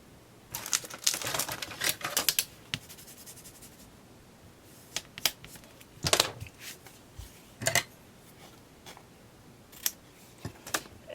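Double-sided tape is pulled and pressed in a strip along the back of a handmade card, giving quiet, scattered crackling tears and taps. They come in brief clusters, close and soft, with no talking.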